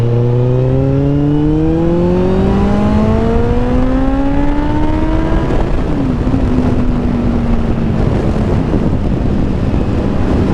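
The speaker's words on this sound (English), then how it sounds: "that was a bad rev match. I revved too much." A motorcycle engine revs upward in pitch during a downshift, then blips sharply with an over-revved rev match and settles lower, heard close over heavy rushing wind noise.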